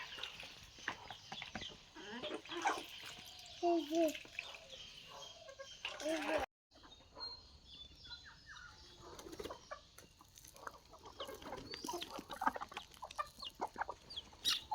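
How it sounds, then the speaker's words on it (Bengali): Hens cluck and chatter nearby in scattered bursts while eating, with ducks among them, occasional wing flaps and soft pecking sounds, in a village yard. "এখন কি হাঁস মুরগি খাচ্ছে"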